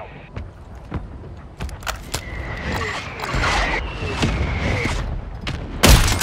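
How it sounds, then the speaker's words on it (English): Mortar strikes land in a video game as a string of dull booms and sharp cracks spread over several seconds, building to one loud close blast at the end, with faint background game noise. "Mortar strike inbound."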